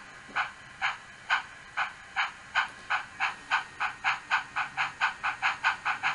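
A Bachmann Green Arrow model steam locomotive's sound decoder puffs out a steady train of crisp, hissing chuffs, about twenty in all, spaced evenly and gradually quickening.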